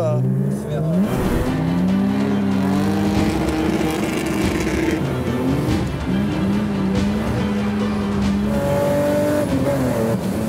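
A BMW M3 E36 drives through a field, its engine revving and changing pitch in long loud pulls, with some tire noise and occasional voices underneath.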